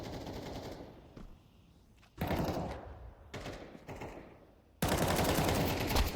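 Shotgun and automatic gunfire from a Counter Strike 2 collegiate playoff match, loud dense bursts that start, stop and restart over several seconds, with quieter background game noise in the gaps.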